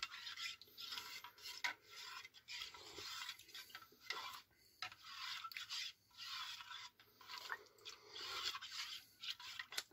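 A spoon scrapes and stirs an old 1993 US MRE mix in its pouch or cup, with steady, close rasping and scraping strokes repeating in irregular bursts throughout, and no talk.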